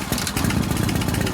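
A Shovelhead Harley motorcycle with a big-bore CI stroker motor catches and runs, a steady close engine rumble with rapid firing pulses and a slight rise in pitch toward the end.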